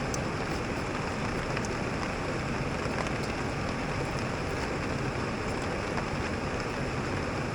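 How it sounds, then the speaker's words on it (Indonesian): Steady rain mixed with the broad, constant rush of a waterfall at Gumandar on a mountain trail, a dense unbroken wash of water noise with no voices. "Hujannya cahdu, suara air terjunnya"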